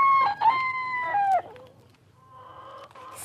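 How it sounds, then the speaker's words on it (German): Chickens and a proud rooster around a henhouse in a German radio play: a rooster crows loudly and clearly, followed by quieter clucking and cackling from the hens. "Da ist es ja, das komische Federvieh"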